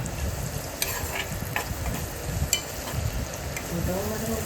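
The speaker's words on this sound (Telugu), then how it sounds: "ఉల్లిపాయలు పచ్చిమిరపకాయలు అందులో వేసుకోవాలి వేసుకుని బాగా కలుపుకోవాలి" Onions and green chillies frying in oil for goat head curry, a steady sizzle under repeated stirring and spoon scrapes in the pan, heard close with no talk.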